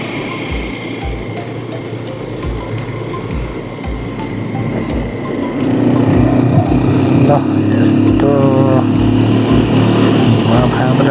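A motorcycle engine labours uphill, its loud, steady drone with low pulsing firing beats growing stronger midway, while people talk over it.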